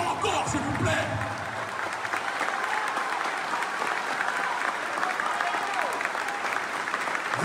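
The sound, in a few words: audience applauding loudly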